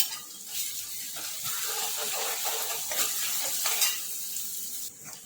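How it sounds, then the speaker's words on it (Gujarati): Onion, garlic and ginger paste fries and sizzles in a pan for Rajma curry, with steady hissing and occasional scraping stirs close by, no talk. "આ ડુંગળી લસણ આદુ શેકાઈ ગયા છે"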